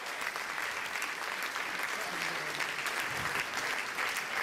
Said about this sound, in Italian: applauso anche per loro